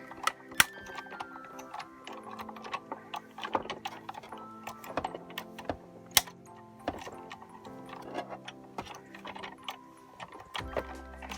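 A die-cutting machine pressing a die through graphics film, giving a busy run of mechanical clicks, ticks and gear-like rattles at close range, fairly quiet, with no voices.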